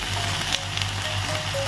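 Pancit canton noodles dropped into a pan of frying cabbage, chayote and carrot, sizzling loudly and steadily with faint clinks, close up.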